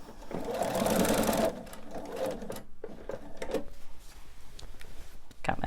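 A sewing machine quilts through fabric layers with a set stitch length, giving a loud, close whir that runs steadily for a moment and then eases into softer, intermittent stitching and clicks.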